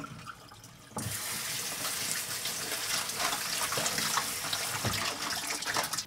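Water suddenly starts pouring and splashes steadily through a strainer draining jellyfish for salad, a continuous close rush with small irregular spatters.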